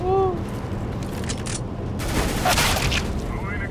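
A sharp burst of game gunfire cracks out midway, rapid and loud, after a brief electronic tone and some faint background noise.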